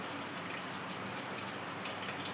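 Water is poured into a pot of cooked red and yellow toor dal, a soft, steady, continuous gushing with no talk.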